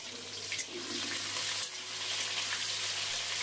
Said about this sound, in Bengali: দিয়ে আবারও তেলের মধ্যে নাড়াচাড়া করে শিমটা ভেজে নেব